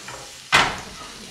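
Bacon, onions and garlic drop into a pan over low heat with no oil, a sudden hissing sizzle that swells at once and then slowly settles into a softer, steady fry.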